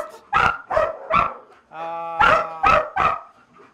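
Several dogs, Malinois among them, bark in short loud bursts at a breeding kennel, with a sustained whine or yelp between barks and close repeated woofs following.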